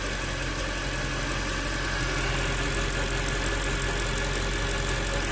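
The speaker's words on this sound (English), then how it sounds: "that's just standard camshaft valve train noise." A 2011 Mercedes-Benz E63 AMG engine idles steadily with a light, rapid ticking of the camshaft valve train, close by and continuous, with no talking.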